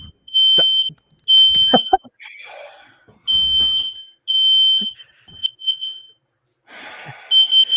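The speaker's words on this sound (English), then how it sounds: "the fire alarm." A smoke-detector fire alarm beeps loudly in long repeated high-pitched bursts, broken by short pauses, while people talk and laugh between and over the tones indoors.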